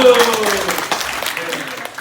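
Group clapping from a church retreat team presenting its name, loud and close, starting under a fading voice and continuing as scattered claps.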